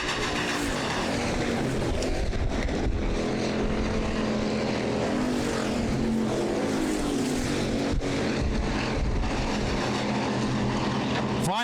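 Hobby stock race cars roar around a dirt-track raceway during a heat race on the final lap, engines droning continuously and loudly throughout with crowd and track noise mixed in.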